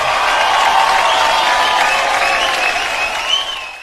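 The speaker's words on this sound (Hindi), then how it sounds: "एक बार जोरदार तालियां।" A crowd breaks into loud, close applause welcoming a father on stage, with a little cheering mixed in, before the clapping begins to taper.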